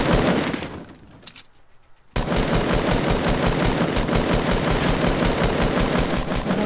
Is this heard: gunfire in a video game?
yes